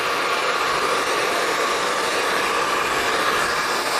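A hair dryer runs steadily and loudly while blow-drying medium-length hair, a continuous broadband whoosh with no pauses, heard alone without talk.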